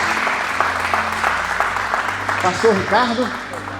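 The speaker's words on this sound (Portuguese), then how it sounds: "Aplauda o Senhor em nome de Jesus." A church congregation claps steadily throughout a men's service, a dense wash of applause, with a voice speaking over it near the end.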